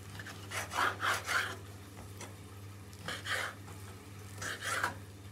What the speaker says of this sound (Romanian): Pentru început trebuie să tăiem cubulețe pieptul de pui.